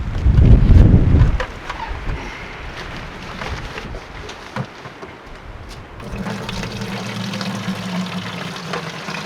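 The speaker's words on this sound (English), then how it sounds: "I'm gonna grab some of this delicious water, and I'm gonna show you how clean it is." Filtered rainwater, collected from cleaned gutters, splashes loudly into a container for about a second, then the pouring settles into a softer, steady trickle and liquid noise that carries on to the end.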